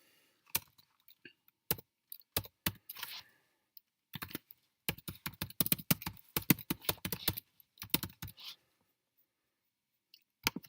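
An email address is typed on a computer keyboard in close, crisp bursts of key clicks, with pauses between short runs and a dense flurry in the middle, then a final couple of taps.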